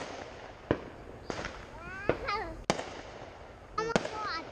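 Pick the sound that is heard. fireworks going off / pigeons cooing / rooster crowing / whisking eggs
fireworks going off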